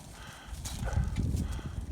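A cow and a bull walk through a pasture, their soft hoof thuds and shuffling steps faint and irregular over quiet outdoor background.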